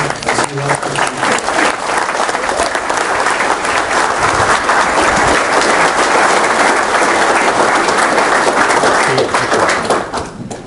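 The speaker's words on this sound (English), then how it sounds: "Please give Jay a warm Chippewa Valley welcome." A loud, dense wave of applause from an audience welcoming a speaker, a sustained roar of many hands clapping together that holds steady for about ten seconds before fading at the end.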